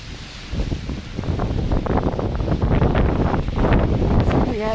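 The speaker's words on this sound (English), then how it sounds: "Right now, the wind is the enemy." Wind blusters outdoors while walking downtown on a snowy winter day, a strong buffeting rumble across the microphone that swells and stays loud throughout, alone without speech.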